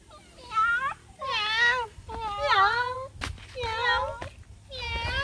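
A person imitates a cat with five drawn-out, wavering meows in a row, each separated by a brief pause, fairly close and clear.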